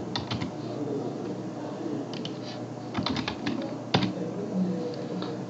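Steady typing on a computer keyboard while entering a contact name into Salesforce, with irregular clusters of close, crisp keystrokes over a faint room hum and no talking.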